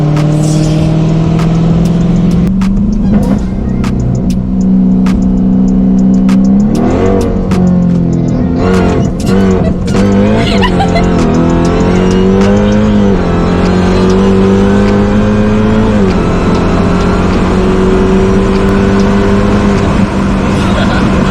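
A 1000-horsepower Dodge Hellcat engine roars loudly from inside the car, climbing through several rising revs and gear shifts with a deep, constant drone and brief dips between pulls.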